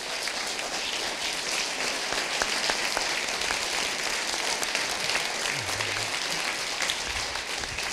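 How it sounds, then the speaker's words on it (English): Steady applause from a keynote plenary audience at a conference, dense even clapping sustained across the whole stretch with no talking over it. "Please just help me to give me a round of applause"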